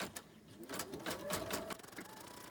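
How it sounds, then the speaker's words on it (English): An embroidery machine finishing the last few stitches of a spider coaster design, soft rapid mechanical tapping and whirring heard close but faint, with no talk. "I've placed the hoop back in the machine, and I will stitch the last two stitches to finish up the design"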